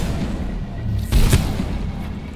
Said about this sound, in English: There's an exploding guy over there.